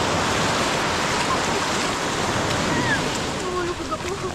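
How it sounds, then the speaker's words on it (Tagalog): Strong surf roars continuously at a beach in Ternate, Cavite, loud and close, a broad rushing wash of crashing waves with wind and a faint voice underneath. "Ang lakas ng alon"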